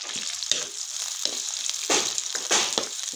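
Oil sizzles steadily in a pan as onions fry for a green peas and egg curry, with several louder bursts of crackling and stirring scrapes over the continuous hiss, and no voices.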